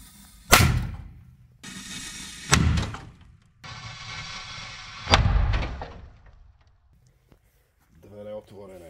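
A Dumbum Middle firecracker bursts inside a Gorenje microwave: several loud, sharp bangs land roughly a second or two apart, each followed by a rattling, hissing tail. Faint sounds follow as things settle.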